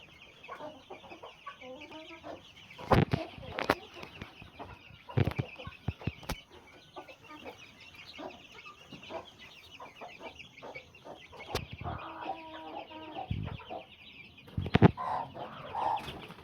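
Native country chicken chicks and hens clucking and peeping in short scattered calls, with a few sharp knocks and scuffles, fairly close in a quiet setting.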